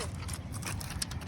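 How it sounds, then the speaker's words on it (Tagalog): Horses at a hilltop view deck in Claveria, Misamis Oriental, with soft hoof clops and shuffling over steady outdoor wind and low crowd murmur. "So, diha na yung mga kabayo."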